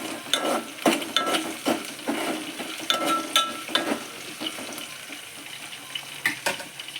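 Onions fry and crackle in a pan for a home-style curry while a spoon scrapes and stirs in uneven clattering bursts, close and moderately loud, with no talking.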